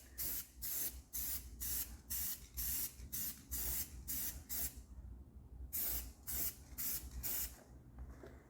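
Tire mark remover sprayed onto a tire in a rapid series of short, even hissing bursts, close and fairly faint, with brief gaps between pumps and no talking.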